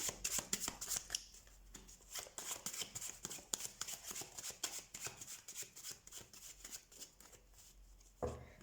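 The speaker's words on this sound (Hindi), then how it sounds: "सो सबसे पहले हम कार्ड शफल कर लेते हैं आपके लिए" A deck of tarot cards is shuffled by hand nearby, giving a rapid run of crisp riffling flicks and soft slaps that carries on steadily for several seconds before a sharper thump at the end, with no talking.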